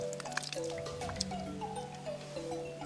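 Water from the spring at the source of the Paraguaçu river drips and trickles in quick irregular drops, close and fairly clear over a soft liquid burble.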